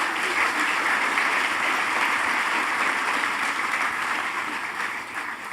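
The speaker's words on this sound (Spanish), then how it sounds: "Quiero pedirles entonces un aplauso para nuestro conferencista," Applause at a conference for the panelists, a steady, moderately distant wash of many hands clapping that gradually tapers off toward the end.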